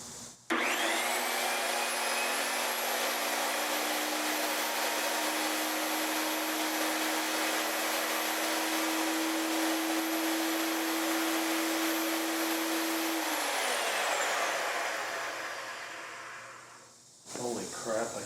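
A restored table saw motor whirs up to a loud, steady whine with a high tonal edge. It runs evenly for about twelve seconds, then winds down and coasts to a stop.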